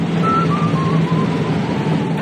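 A bus in downtown city traffic in the Congo rumbles loudly and steadily up close, with a thin, falling whine or beep riding over the engine drone.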